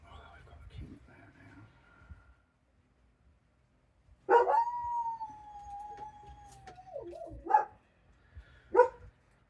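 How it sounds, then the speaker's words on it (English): A dog howls at a passing ice cream van: one long, steady wail that bends downward at the end, followed by a couple of short sharp yelps. Quiet murmuring comes first, then a pause of near silence. "So that's probably the first ice cream van the dog's heard. She's not very happy about it."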